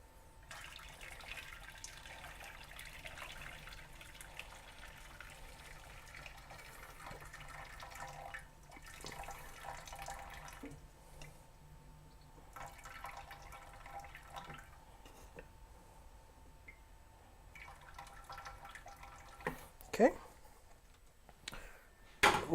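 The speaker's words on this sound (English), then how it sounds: "We're going to drain this water." Boiled potato water is drained from a pot into a kitchen sink, pouring and splashing in intermittent gushes with clattering pot sounds and a few sharp knocks near the end.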